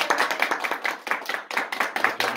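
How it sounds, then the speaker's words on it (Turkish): A group claps rapidly and steadily at close range for a couple of seconds at a birthday celebration with a snow cake, with no talking. "Alkış. Hadi. Alkış."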